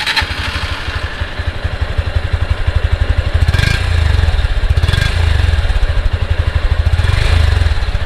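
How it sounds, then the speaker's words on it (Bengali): A 2024 Honda CB200X adventure motorcycle idles with a smooth, steady exhaust thrum, loud and close, its rhythmic pulsing rising briefly a few times as if blipped. "তোমাদেরকে সবার আগে শুনিয়ে দেবো হচ্ছে এক্সস্ট নোটটা, ভালো করে শোনো, ভীষণ স্মুথ"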